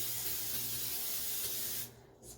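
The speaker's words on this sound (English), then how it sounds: "I have some pan spray." Pan spray from an aerosol can hissing onto a pan, one continuous close burst of about two seconds that cuts off sharply and is followed by a short clatter.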